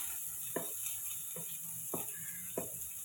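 Chopped onions with green chillies going into a hot pan for upma, a low steady sizzle under four soft stirring scrapes spaced evenly about every half second, close and quiet.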